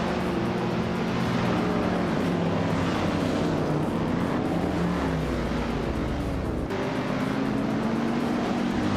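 Vintage race cars roar past in a continuous, loud drone of engines, with the pitch of the motors sliding as cars pass close by, and no speech.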